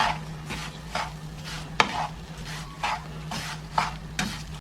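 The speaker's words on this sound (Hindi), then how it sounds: "इसको मुसलसल भूनते रहेंगे ताकि ये नीचे से लगे ना।" Khoya roasts in a pan for aflatoon barfi, stirred in a regular rhythm of soft scraping strokes about twice a second over a low, steady hum, close by and with no talking.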